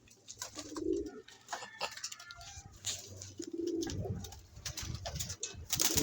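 Pigeons coo in low, rolling bursts, several birds close by, with faint scattered chirps and rustling in the background.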